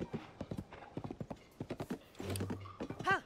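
Horse hooves clip-clopping while riding in Zelda: Tears of the Kingdom, a quick steady run of hoofbeats followed by a short whinny near the end, close and fairly quiet.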